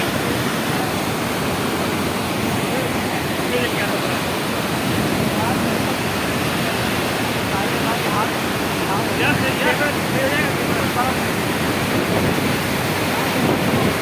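Lamchar waterfall in Chitral roars as a steady, loud broadband rush of falling water that fills the whole stretch without letup.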